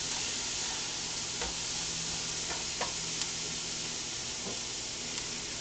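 Onions sizzle and fry steadily in a hot frying pan, a constant crackling hiss with a few sharp pops and light stirring clicks, close and alone.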